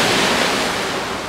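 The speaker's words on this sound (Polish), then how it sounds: "O, ale fale!" Ocean waves roll in on a Korean shore as a loud, continuous rushing surf, with some wind noise and no voices.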